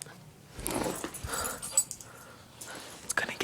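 A dog scared by a trumpet whimpers and wheezes in a few short, nasal bursts, close by and fairly soft, with quiet gaps between them.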